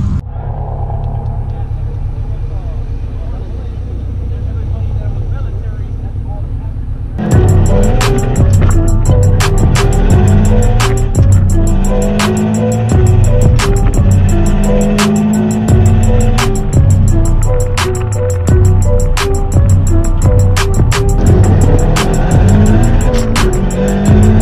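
Cars launching down a drag strip, one of them a 400 AWHP wagon, with a steady engine drone that erupts into loud, sustained roaring and sharp crackling bursts partway through, staying loud to the end.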